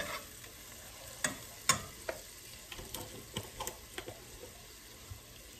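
Ground cumin stirred into onions frying in oil in a pan, giving a low steady sizzle broken by irregular scraping and tapping strokes of a utensil.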